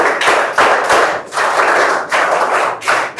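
Students clap loudly to congratulate a quiz winner, in rhythmic bursts of sharp, close applause separated by brief pauses, about five waves across the stretch.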